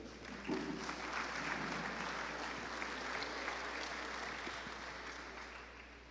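An audience at an industrial forum in Chiclayo applauds a speaker as he comes to the stage, with sustained, even clapping from a fairly distant crowd for about six seconds and no talk.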